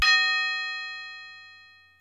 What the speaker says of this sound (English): after that, I just added a bell.